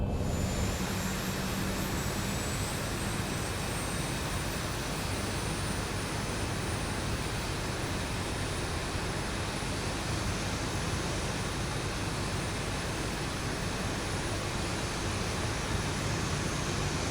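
Jet engine number 1 of a Boeing 737 spooling up during start in the X-Plane 11 Zibo flight simulator, a loud continuous roar with a rising high whine, steady throughout with no speech.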